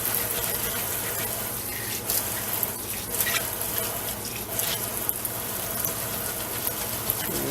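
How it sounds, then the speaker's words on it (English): Running water pours steadily from a tap while a makeup brush cleaning pad is rinsed beneath it, a constant close rushing gush throughout. "Sometimes I have to rinse my pad."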